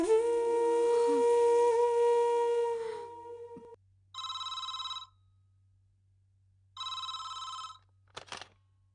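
In a Tamil TV serial scene, a telephone rings in two clear, even bursts of bright electronic trilling after a sustained tonal passage fades out, ending in a short clatter as the line goes quiet.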